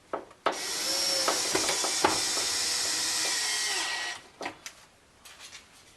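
A powered screwdriver drives a Phillips screw into the lower window trim of a Ford Ranger (B4000), a steady close whir lasting a few seconds, followed by a handful of light clicks and knocks.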